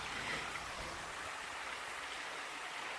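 Abuab Falls pours as a steady, broadband rush of falling water, loud and continuous throughout with no voices over it.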